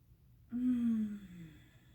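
A single deep exhale during a chair yoga breathing exercise, close and soft, starting abruptly after a half-second of quiet and tapering off over about a second.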